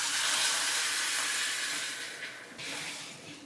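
Seasoned sauce poured into a pan of fried tofu and scallions, a loud, close, hissing sizzle that holds steady, then softens slightly before a fresh burst of steam near the end.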